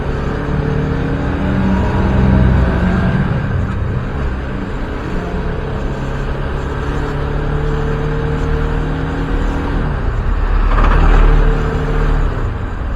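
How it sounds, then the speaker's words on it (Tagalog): Road traffic with cars passing, engines humming and swelling loudly as vehicles go by close, with a louder surge near the end. "Traffic."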